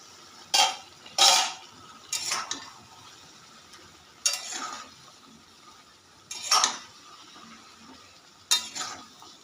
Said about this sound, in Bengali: বন্ধুরা, আমি এবার ঢাকা খুলে দেখব।